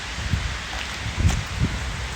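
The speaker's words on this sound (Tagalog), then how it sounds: "Malakas na yung ulan." Heavy outdoor rain during a run in South Korea, a dense steady wash of drops with a few louder low thumps and rustles close by, no talk.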